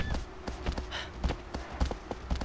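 Hoofbeats of the horse Agro galloping in Shadow of the Colossus, a rhythmic run of clip-clop thuds repeating steadily and fairly close, with no talk over them.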